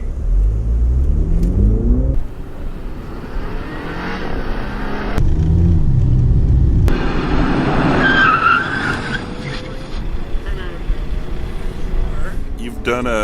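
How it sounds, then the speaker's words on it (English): A BMW accelerates hard from a standstill toward 40 mph on a performance driving course, with the engine note climbing through rising revs and gear changes and occasional tyre squeal. Voices talk over it at times. "take off aggressively, right? Full hard acceleration. Get up to that target speed as fast as you can."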